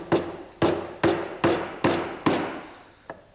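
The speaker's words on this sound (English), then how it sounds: "When you get the nail virtually down, don't hit too hard and keep your hammer flat." A hammer drives a nail into wood aboard a ship, six sharp evenly spaced blows ringing close and loud, followed by a single lighter tap.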